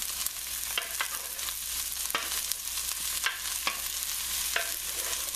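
Vegetables and onions cook in a pan for a vegetable pizza, giving a steady close sizzle of frying with scattered scraping stirs of a utensil through the food, no voices.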